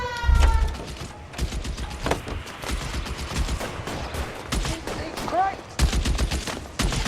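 Gunfire crackles through a shootout in the L.A. Noire video game, with repeated sharp shots in bursts and scattered single cracks, while voices call out over the firing.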